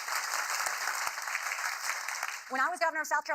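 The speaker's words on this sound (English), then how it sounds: "notice when people clap for her" A town hall audience applauds a speaker with dense, steady clapping for about two and a half seconds before a voice begins speaking over the fading claps.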